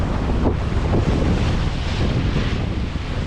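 Strong wind buffets the microphone while a sailboat rides rough North Atlantic seas, a dense continuous roar of wind and breaking water with no voices.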